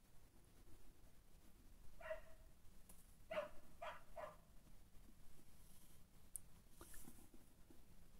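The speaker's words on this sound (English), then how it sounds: "One of my neighbors has got their dogs out." A neighbor's dogs barking outdoors, a few faint, distant yaps in a short cluster, then a lone bark later, over quiet room hiss.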